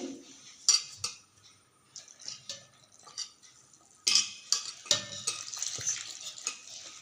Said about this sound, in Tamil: இதில் வந்து ஒரு ஒன்றரை ஸ்பூனு உப்பு போட்டு இதை கொஞ்சம் தண்ணியாக கரைச்சிக்குவோம்